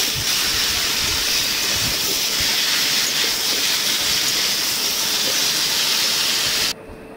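Vegetables and spices fry in a pan with ground chilli as they are stirred, giving a loud, steady, close sizzling hiss that runs unbroken and cuts off abruptly just before the end.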